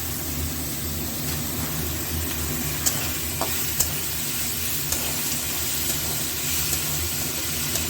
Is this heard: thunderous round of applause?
no